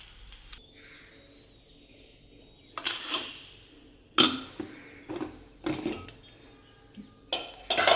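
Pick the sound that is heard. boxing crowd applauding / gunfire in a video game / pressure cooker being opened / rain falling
pressure cooker being opened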